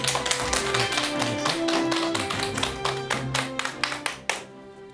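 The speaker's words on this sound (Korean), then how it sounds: "큰 박수 부탁드립니다." A studio audience claps for a guest on a Korean talk program, a dense, close burst of rapid hand claps that runs steadily and then thins out and stops near the end.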